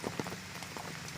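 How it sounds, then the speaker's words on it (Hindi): Rain falls during the rainy season in Vrindavan, a soft, even hiss of drops pattering on surfaces with faint scattered taps, heard quietly without speech. "इस समय दोस्तों एकदम बारिश का समय"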